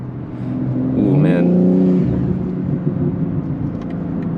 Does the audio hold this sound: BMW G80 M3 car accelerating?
yes